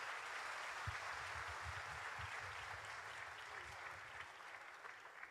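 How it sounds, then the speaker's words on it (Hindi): Audience applause at an event honouring Indian social activists, a dense, continuous wash of clapping lasting several seconds, steady and moderately distant with no speech over it. "जोरदार तालियां।"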